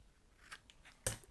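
Scissors trim a small edge of paper in a few faint, quick snips, the last cut crisper and louder, in a quiet room.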